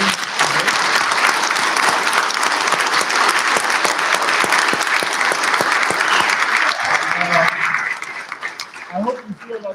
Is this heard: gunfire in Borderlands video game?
no